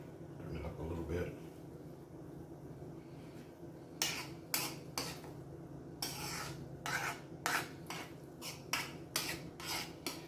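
Eggs being scrambled in a pan, heard as a series of scraping, rubbing strokes of a utensil against the pan, growing more frequent in the second half; a voice speaks briefly at the start.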